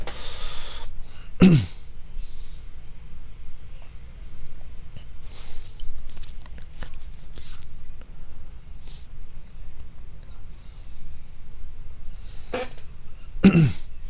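A few sharp coughs break a quiet room, one early and a pair near the end, with soft rustling in between.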